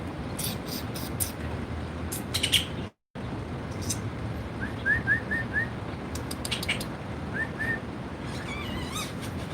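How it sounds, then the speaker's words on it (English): A lone bird chatters and sings in a tree on a Las Vegas morning, with short chirps and whistled phrases scattered over steady outdoor background noise, broken by a brief dropout. "You like that bird chatter? Except that bird's just chatting with itself."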